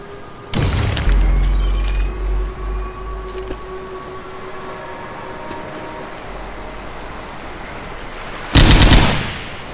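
Gunfire from a weapon in the zombie shooter game Left 4 Dead 2: a loud burst opens, rumbling bass echoes follow, and a second sharp blast lands near the end.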